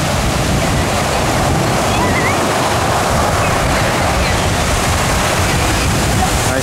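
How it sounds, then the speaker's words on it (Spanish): Strong ocean surf pounds steadily at a beach in Acapulco beside a hotel, a loud, continuous roar of breaking waves with heavy wind buffeting the microphone and no pauses. "Se siente fuertecito el oleaje."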